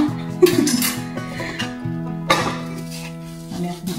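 Dishes, pots and pans being washed by hand, with scattered clinks and clatters of plates and metal against each other, close by, and quieter rinsing in between.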